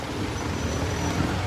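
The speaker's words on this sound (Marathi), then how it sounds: "गाइस तुम्ही बघू शकता खूप ट्रॅफिक आहे आज" Heavy road traffic in Bhiwandi, a dense continuous roar of trucks, buses and other vehicles close by with no pauses.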